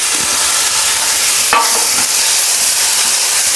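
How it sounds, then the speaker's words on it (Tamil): Tomato and coriander lightly sautéed in oil for rasam: a loud, dense, steady sizzle close up, broken by one sharp clack of a spatula midway and a few faint scrapes. "சும்மா லைட்டாக அப்படி வதக்கிட்டு போட்டுடலாம்"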